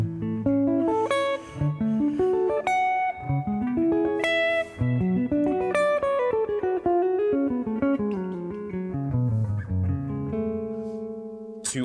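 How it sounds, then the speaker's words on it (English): An electric guitar plays conventional major scale arpeggios, a fast continuous run of picked notes climbing and descending in even rhythm, loud and close with no talking. "away from the arpeggios that sound like this"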